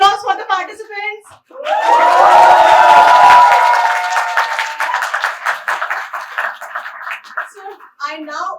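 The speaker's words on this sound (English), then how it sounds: "So one huge round of applause for the participants." A debate audience applauds the participants in a hall, a dense burst of clapping swelling up and then tapering off, with a speaking voice before and after it.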